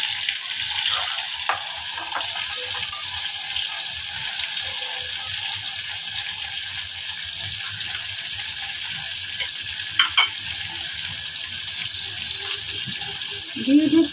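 Garlic, onion and green chillies fry in a pan with a steady bright hiss that fills the whole stretch, broken by a few faint clinks, with no voices.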